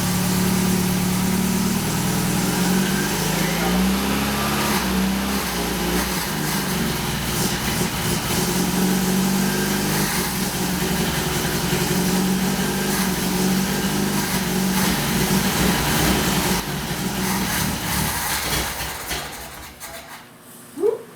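A Saab Sonett engine runs steadily for a long stretch with the throttle slowly opened and a constant low rumble, smoking and spraying oil, then cuts out near the end.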